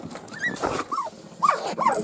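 A small dog yips and whimpers in short, high-pitched bursts, several quick cries spread across a couple of seconds, fairly close.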